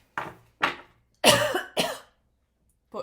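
Four harsh coughs in close succession, the middle two heavier and longer, followed by quiet.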